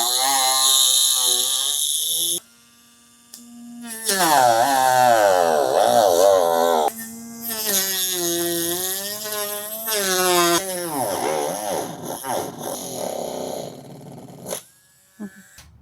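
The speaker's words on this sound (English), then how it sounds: "It's time to finally cut the bumper." A power tool cuts through a hard plastic car bumper, its whining, wavering drone rising and falling in long loud bursts with brief pauses between passes.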